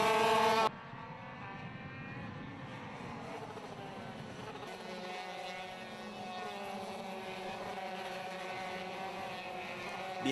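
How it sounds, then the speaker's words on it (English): The Dutch driver's racing kart engine holds a steady, high, buzzing drone throughout, loud and unbroken, heard at a WSK Euro Series 2013 kart race. "the Dutchman's kart is once again unopposed. Its engine sings a solo which no one can match"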